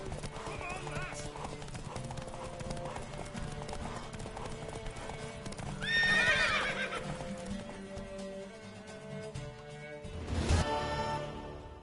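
Rapid clip-clop of horse hooves galloping throughout, with a loud horse whinny midway and another near the end, under a busy game-like background, from the video game The Witcher III: Wild Hunt.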